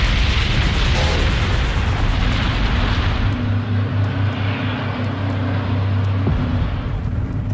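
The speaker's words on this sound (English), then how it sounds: "The air traffic controllers hear the explosions, but because of the fog, they can't see anything." Loud, continuous roaring rumble from the explosions of two colliding Boeing 747 jets, a dense wall of noise that holds steady for several seconds with no voices.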